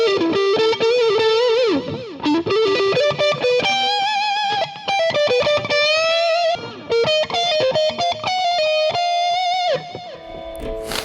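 A Starfavor relic Strat-style electric guitar chugs through a Klon clone overdrive pedal, playing loud, continuous driven riffs with sustained bent notes and rhythmic palm-muted bursts, alone with no voices.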